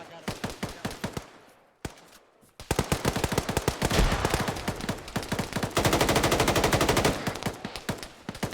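Enemy gunfire in the video game Synthetik comes as rapid automatic bursts, sparse at first and then a long, loud, steady stream of shots, with a voice briefly under it.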